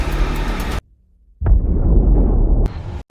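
A single loud gunshot cracks out in a film scene of a street race, hitting one of the racers; it bursts in abruptly after a brief hush and leaves a rough, rumbling tail with a second sharp hit near the end.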